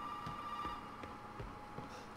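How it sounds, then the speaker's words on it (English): A telephone rings inside the Resident Evil 7 Biohazard horror game, a steady electronic ring tone with soft repeated pulses over quiet background game ambience, fairly faint and without speech. "A phone call. Phone call again."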